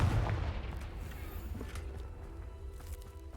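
A Confringo fire spell blast bursts in the video game Hogwarts Legacy, a loud, booming low impact that rumbles and decays over a few seconds.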